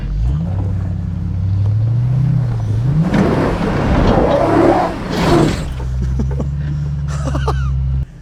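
Off-road 4x4 engine under load at full steering lock, a loud steady drone that rises through revs midway amid wind buffeting and scraping, then settles back to a lower hum.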